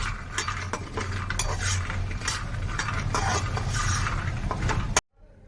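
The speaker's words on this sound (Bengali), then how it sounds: "বাদামগুলো একটু শুকনো খোলায় ভেজে নিচ্ছি লাল শাকে দেওয়ার জন্য" Peanuts dry-roasting in a dry pan for a red amaranth greens dish, stirred steadily with a utensil, giving a continuous near rattle and scrape of nuts and metal for about five seconds before stopping abruptly, with no talk.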